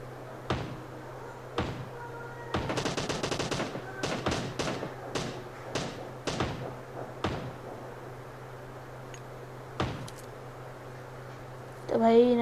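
Gunfire in the mobile battle game PUBG Mobile during a squad fight, heard as scattered sharp shots and a short rapid burst, fairly loud and close, with a hum underneath and a sudden noise at the end.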